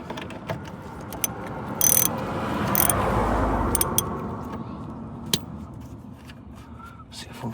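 A 19 mm ratchet loosens a bolt during an oil change on a 7.3 diesel, giving a close series of clicking and clattering metal sounds with a short grinding swell in the middle.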